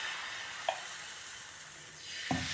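Ragi dosa batter hisses in a steady, close sizzle as it is spread across a hot dosa griddle, with a couple of soft clicks of the ladle against the pan.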